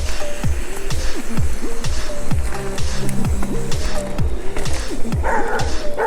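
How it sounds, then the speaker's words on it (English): A dog barks repeatedly in quick rhythmic bursts, fairly close and loud, heard from an electric mountain bike riding downhill on a morning trail, with a brief voice at the end. "I'm upsetting a lot of dogs this morning."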